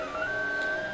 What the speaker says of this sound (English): and then the printer starts running.